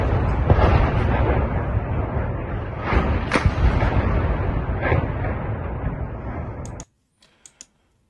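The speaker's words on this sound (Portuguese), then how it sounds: "Esse aqui foi um bombardeio de uma igreja, né?" An explosion from the bombing of a church: a loud, continuous roaring rumble with bursts of debris-like crackle that lasts several seconds, then cuts off abruptly, leaving a few faint clicks.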